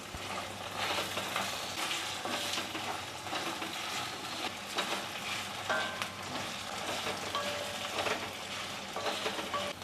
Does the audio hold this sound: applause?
no